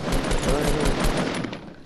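Rapid automatic gunfire from a Fortnite battle royale match, dense bursts of shots rolling continuously through the clip at fairly close range, loud and steady with no clear talking.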